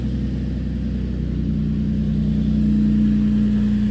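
Nissan S13 with a turbocharged VQ engine idling, a steady, loud, smooth low drone at close range with no talk over it.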